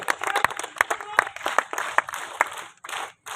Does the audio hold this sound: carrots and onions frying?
no